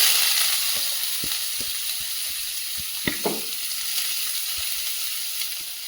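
Chopped onions frying in hot oil in a kadai, a loud, even hiss throughout with a series of soft spatula taps and one brief louder scrape midway.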